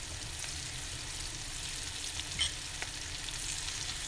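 Onions and green garlic sautéing gently in a pan, a soft, quiet sizzle with a few faint stirring clicks, no talking.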